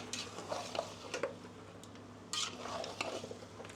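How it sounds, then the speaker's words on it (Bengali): Raw onions being stir-fried over high heat in an open pot until soft, giving a low steady sizzle broken by scraping and stirring clatter from a spoon against the pot. "আপনার কাঁচা পেঁয়াজগুলো একেবারে নরম হওয়া পর্যন্ত ভালো করে ভুনে নিতে হবে"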